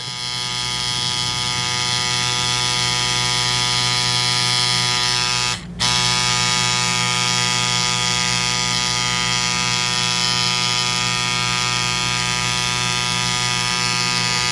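A tattoo machine runs continuously with a loud, steady electric buzz while a needle outlines on skin. The hum cuts out for a split second midway, then resumes at the same pitch, with no voices.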